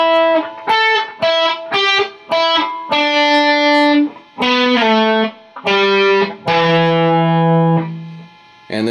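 Distorted electric guitar playing the Eagles' Life in the Fast Lane intro riff, with picked notes, slides and an open low string; choppy repeated phrases lead into longer sustained notes, loud and close, with no talking.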